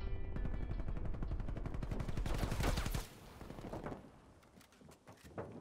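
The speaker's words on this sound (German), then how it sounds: "wenn er jetzt anfängt, auf mich zu schießen" Rapid bursts of automatic gunfire from an enemy player in Call of Duty: Black Ops Cold War, loud and steady for about three seconds before cutting off, followed by quieter scattered shots and movement.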